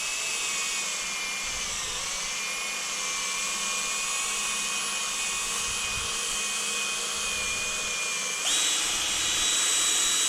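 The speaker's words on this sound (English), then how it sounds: "then I go at it with the drill like this" A power drill polishing a laptop surface to remove scratches whines steadily at high pitch for the whole stretch, close up and loud, with a slight pitch shift near the end.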